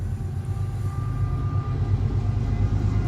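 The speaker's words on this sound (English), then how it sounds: "I'm sure you hear the train there." A train passes at a distance in a low, steady rumble with faint metallic tonal whines on top. The sound holds an even level throughout and no one speaks.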